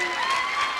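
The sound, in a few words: audience applause for the speaker's mom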